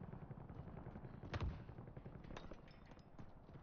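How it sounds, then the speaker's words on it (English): In a video game, a single gunshot thuds out partway through, standing over a steady low rumble of gameplay noise at fairly low volume. "Who shot me?"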